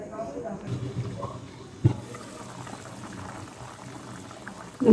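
Kara kuzhambu curry with potato and brinjal simmering in a covered pot, soft low bubbling and gentle gurgling with one brief knock partway through, under faint background talk.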